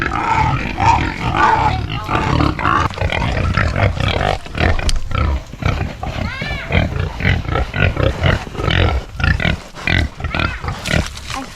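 Pigs grunt and squeal close by in a busy, overlapping chorus of snorts and low grunts, with a person's voice mixed in.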